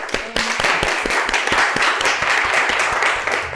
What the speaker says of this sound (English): Again, round of applause for Natalie.